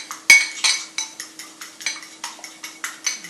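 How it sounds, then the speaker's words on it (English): A fork beats egg yolks in a bowl for a vegetable frittata, giving a steady run of about a dozen sharp metallic clinks at a brisk, even rhythm, close up and alone. "Grab a fork. Alright, so I'm going to go ahead and beat up my egg yolks."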